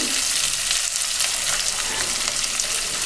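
Onion, curry leaves, green chili and ginger sautéing in a hot pan, a loud continuous hissing sizzle with faint stirring scrapes, close and steady, with no voices.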